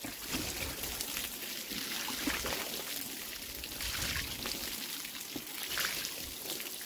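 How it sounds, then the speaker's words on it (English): Water poured over a Briggs engine carburettor on a Westwood Lawn Bug, a continuous splashing, trickling rinse that runs steadily and fairly close with no talk. "Just rinse them off with a load of water."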